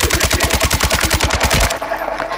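Rapid automatic gunfire from a weapon in the Warzone video game, a loud steady burst of about twenty closely spaced shots lasting under two seconds before cutting off into quieter game ambience.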